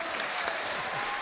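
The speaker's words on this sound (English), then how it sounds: "Give them a round of applause." Brief burst of audience applause for a panel at a local Burnley event, dense clapping that is fairly close and steady and heard alone.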